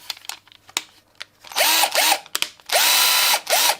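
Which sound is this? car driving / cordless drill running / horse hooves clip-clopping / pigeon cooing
cordless drill running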